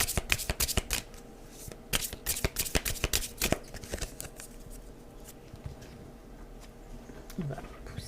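A deck of oracle cards is shuffled and cut by hand, giving rapid papery riffles and flicks in quick clustered bursts over the first few seconds, then quieter handling and faint background sounds.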